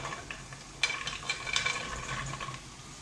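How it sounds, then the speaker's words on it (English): Chickpeas tipped into spiced masala in a pan give a soft sizzle with a few light clatters and stirring scrapes, fairly quiet and close, no voices. "now with the masalas, I am going to add my ramchanas"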